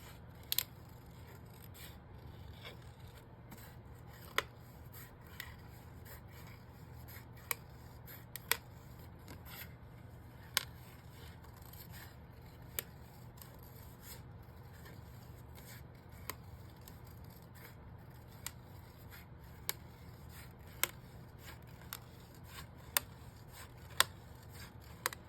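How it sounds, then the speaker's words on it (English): Scissors make a wiggle cut around a paper circle, giving quiet, close, irregular snips spaced a second or two apart over a faint steady background hum, with no talk. "I'm gonna just do a wiggle cut on this."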